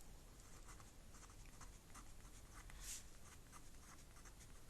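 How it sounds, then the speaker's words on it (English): A Pigma Micron pen writes on paper, a soft, steady scratching of short strokes, close and quiet with no talk. "I'm going to write the name here."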